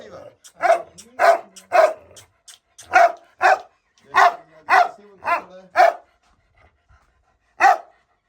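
An aggressive dog barks about a dozen times in close, loud, evenly spaced bursts, with panting between barks and a brief pause before a final bark.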